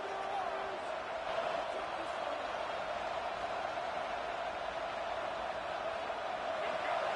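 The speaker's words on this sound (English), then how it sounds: "listen to this crowd noise. This stadium is vibrating" Stadium crowd at a college football game between OSU and ND, a steady dense roar filling the whole stretch, loud and continuous with no distinct cheers standing out.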